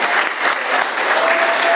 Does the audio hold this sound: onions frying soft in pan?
no